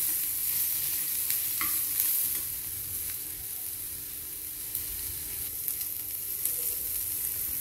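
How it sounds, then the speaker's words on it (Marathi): Spices, a green chili and tomato half-fry in a pan, giving a continuous moderate sizzle with repeated scraping stir strokes and occasional clinks, with no talk. "सर्व मसाले असे हाफ फ्राय करून घेऊया।"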